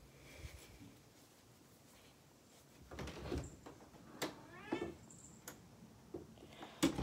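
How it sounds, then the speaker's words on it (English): A house cat makes a few faint meows and rustles amid quiet indoor noises, with a door or cupboard bumping and sliding nearby, the sounds scattered and soft with no talking. "Okay, it was my cat."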